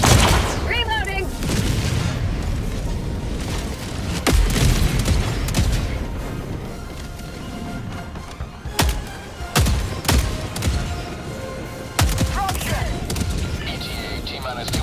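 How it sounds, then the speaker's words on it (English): Heavy orbital strike explosions in Helldivers 2 boom repeatedly, some close and thudding, mixed with gunfire crackle and a steady rumble, while voices talk over the barrage. "Calling in orbital strike"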